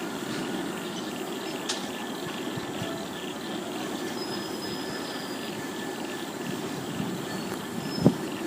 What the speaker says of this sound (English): And the other freight train's almost come to a stop.